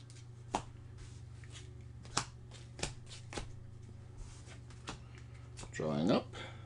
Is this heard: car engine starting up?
no